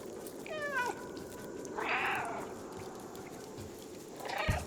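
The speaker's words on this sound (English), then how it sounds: "All the meows belong to me." Several cat meows in the video game Stray, a rising series of calls followed by a louder drawn-out meow, then a short one at the end, over steady background ambience.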